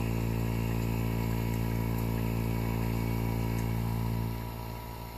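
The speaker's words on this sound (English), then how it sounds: "the exhaust port on the vacuum pump right there, I'm going to stick some rags around it to kind of muffle the sound" Vacuum pump running on a C3 Corvette with its exhaust port muffled by rags, a steady droning hum with a constant tonal whine, easing slightly quieter near the end.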